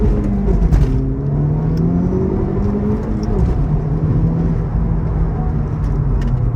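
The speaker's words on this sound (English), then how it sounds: "I just drove there and ripped the car down this road here" Honda Civic Type R FL5 driving on a road, its engine a steady loud rumble and whir with gentle rises in pitch as it pulls, close and continuous, with no voices over it.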